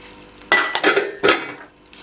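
Dry fruits and nuts, including coconut, raisins and almonds, fried and stirred in a pan: a few loud bursts of sizzling and clattering stirs over about a second, close and with no voices.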